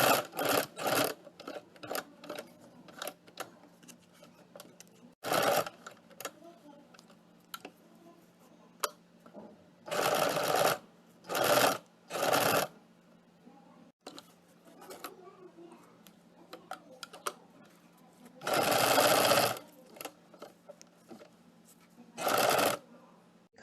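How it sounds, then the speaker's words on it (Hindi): A domestic sewing machine stitches a fabric strip along a neckline at home, running in several bursts of whirring clatter with pauses between them, plus faint handling and a quiet voice during the gaps. "ये मैं सिलाई कर रही हूँ, बिल्कुल इसके लग के इस तरह से शेप के हिसाब से पूरी स्ट्रिप को स्टिच कर लेंगे"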